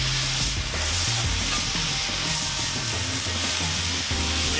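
Cheeseburger patties sizzle on a Lodge 14-inch cast iron griddle, a steady close hiss of frying that runs unbroken with no talking.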